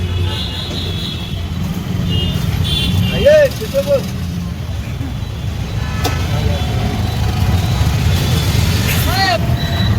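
Cars and motorbikes passing on a university campus road at Banaras Hindu University, a steady rumble of traffic with a horn toot or two, heard under a person talking.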